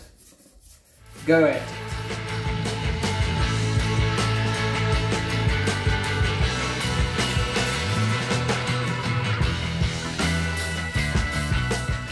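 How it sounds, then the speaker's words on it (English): Old gasket material is scraped off an aluminium intake manifold on a 1UZ-powered Hilux, making a steady close rasping scrape that carries on for about ten seconds after a brief remark. "You pinch it, hold it, and scrape it. And obviously try not to dig into the aluminium"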